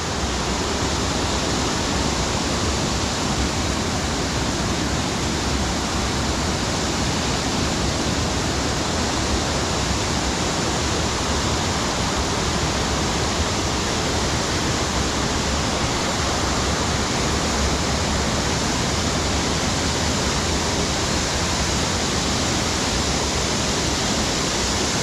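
Harmby waterfall pours in a constant, dense roar of falling water, steady and unchanging for the whole stretch, with no voices over it.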